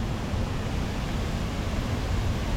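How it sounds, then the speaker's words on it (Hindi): The Khorfakkan man-made waterfall in the UAE produces a continuous, dense rushing roar of falling water, steady and close with no voices over it. "ये मैन मेड वाटरफॉल है।"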